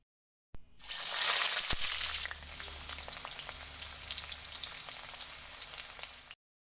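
Onion dropped into hot oil, bursting into a loud sizzle that settles into steady frying crackle for several seconds, close up with no talking.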